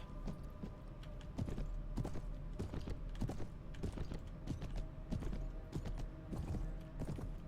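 Steady rhythmic horse hoof clip-clops at a trotting pace in the video game Mount and Blade: Warband, quiet and continuous over a low background hum.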